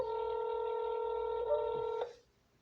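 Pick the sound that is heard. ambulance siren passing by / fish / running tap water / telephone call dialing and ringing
telephone call dialing and ringing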